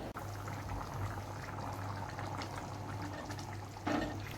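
Cowpea curry simmers in a pot, a continuous low bubbling and gentle liquid burble at close range, with a brief louder splash near the end and no voices.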